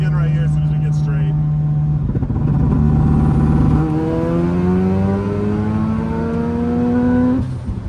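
Rotary-engined Mazda RX7 accelerating hard at full throttle, its engine note climbing steadily in pitch through the gears, loud and close from inside the car, with people talking over it.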